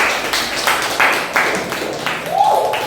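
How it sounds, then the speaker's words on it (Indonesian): Classroom applause for a student group about to present, a rhythmic patter of claps from the room lasting a few seconds, with a voice rising briefly near the end. "Tepuk tangan untuk kelompoknya Farhan."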